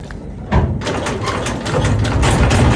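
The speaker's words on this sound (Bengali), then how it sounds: "ইঞ্জিন চালু দিয়ে দিছে, আর এখন আমরা যাচ্ছি।" A boat engine starts up near Shariatpur on a river trip to buy fish, jumping abruptly into a loud, steady mechanical rumble that keeps running close by without any talk.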